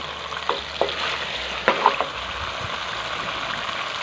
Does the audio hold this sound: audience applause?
no